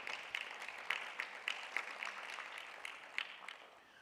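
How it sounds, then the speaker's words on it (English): Thin, sparse applause from a modest conference audience at a summit, individual claps audible as scattered sharp beats, fairly faint and tapering off toward the end. "Let's give her a round of applause."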